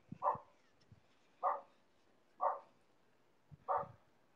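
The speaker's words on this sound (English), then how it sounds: "The dog's woofing at something." A dog barks four times at an even, unhurried pace, each bark short and fairly distant in a quiet room.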